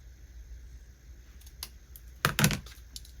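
Scissors trimming a paper junk journal tag give a short burst of crisp snipping clicks, a few close cuts in quick succession after near silence.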